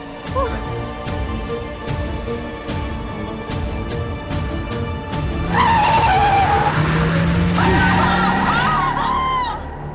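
A car is driven along a road in the dark, with a steady engine drone, a rising tire squeal partway through and tonal background music layered over it, all fairly loud.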